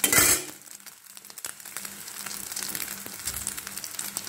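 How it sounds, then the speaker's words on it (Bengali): An egg fries in ghee in a pan. It opens with a brief loud spatter, then settles into a steady crackling sizzle with faint clinks of utensils. "হয়ে গেছে আমাদের ঘি দিয়ে ডিম ভাজা"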